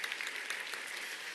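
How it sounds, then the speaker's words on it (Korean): A short burst of audience applause, dense and steady clapping from a crowd at a business leaders' club recognition event. "오늘 저에게 박수를 보내주신 여러분"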